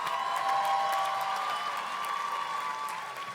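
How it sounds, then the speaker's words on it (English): Sustained applause from a crowd at a graduation ceremony for global communication graduates, steady clapping that holds at a fairly even level throughout and fades slightly toward the end. "Let's give a round of applause for all of our global communication graduates."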